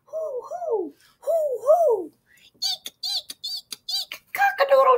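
A person's voice imitates an owl's hoot with two rising-and-falling hoo calls, followed by a run of quick higher-pitched vocal chirps and sounds, close and fairly loud.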